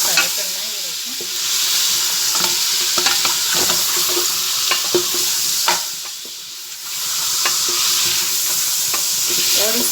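Beef shank meat for nihari sizzling and being stirred in a pot, a loud continuous frying hiss broken by frequent scraping and clattering strokes of the spoon, slightly dipping mid-way before resuming.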